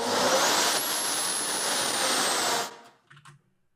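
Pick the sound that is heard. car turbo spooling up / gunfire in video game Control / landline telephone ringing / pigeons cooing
car turbo spooling up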